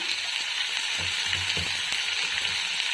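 Tomato pieces and tamarind fry in a pan for mint chutney with a steady close sizzle, while a few soft stirring scrapes come through near the middle; no one speaks.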